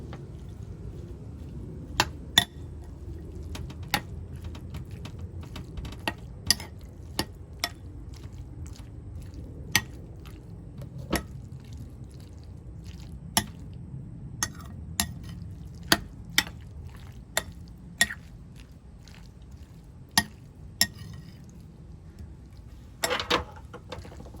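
Imitation crab and canned corn salad being mixed produces soft, wet squishes and scattered sharp clicks of a utensil against the bowl, irregular and close in an otherwise quiet room.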